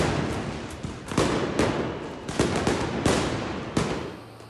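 Fireworks crack in a dense series of sharp bangs and pops at a street protest, with a continuous crowd roar of whistling and noise underneath.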